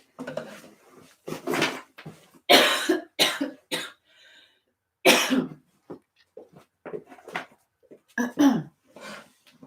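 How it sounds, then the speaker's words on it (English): A person talks, then breaks into several harsh, close coughs in quick bursts, with brief pauses between them and more speech around them. "Pause that because I'm going to have to cough again."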